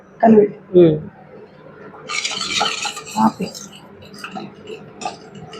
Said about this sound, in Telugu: ఉండలు లేకుండా బాగా కలిపెట్టుకోవాలి